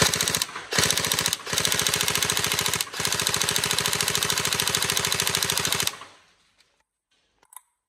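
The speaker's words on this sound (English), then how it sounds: "cock that, then obviously a small pause, and then you should be able to fire" A cocked gun fires a fast sustained automatic burst, loud and close, after two brief pauses early on, then cuts off abruptly into near silence with a small click near the end.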